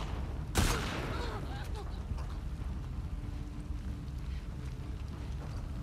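A single sharp gunshot in the video game Grounded rings out early, close and loud, followed by a quieter ambient game background with faint scattered sounds.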